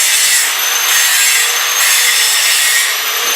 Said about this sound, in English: We're drilling new holes.